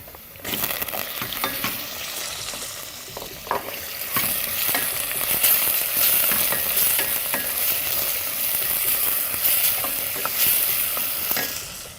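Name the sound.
fish fillet pieces frying with onion in pot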